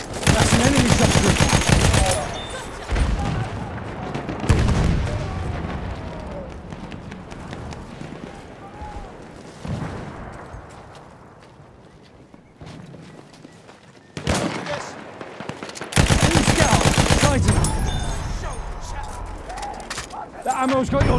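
Enemy machine gun fire in Battlefield 1 on the Albion map, bursts of automatic gunfire mixed with battle noise and footsteps, loud in dense stretches at the start and near the end, with a voice talking over it.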